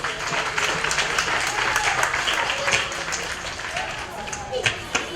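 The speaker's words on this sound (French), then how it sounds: "Applaudissez-les, s'il vous plaît." An audience at a school year closing ceremony breaks into lively clapping, dense and continuous with a few louder individual claps standing out near the end, and faint voices mingling underneath.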